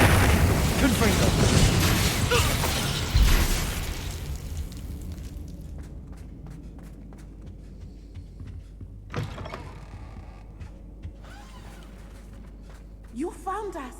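A Confringo blasting-curse explosion in the video game Hogwarts Legacy: a loud booming burst at the start that rumbles and fades, followed by scattered smaller impacts and clicks, with game voices talking.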